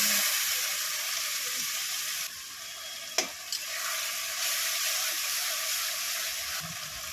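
Paste of onion, ginger, garlic, green and dried chilli, tomato, cumin and whole garam masala sautéing for yoghurt chicken, a steady close sizzle and hiss with a brief clatter of stirring midway, no talk.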